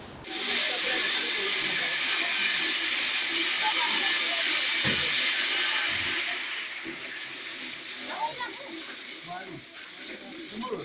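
A multi-seed cleaner machine with adjustable cleaning sieves runs with a steady, loud hissing rush and rattling mechanical churn, easing slightly lower partway through while faint voices murmur behind it.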